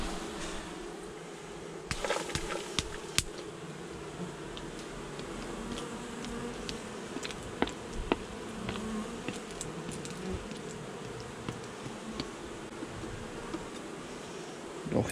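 Honeybees buzz steadily around an opened hive during a colony inspection, a dense continuous hum at moderate level with scattered clicks and light rustling of frames over it, no voices.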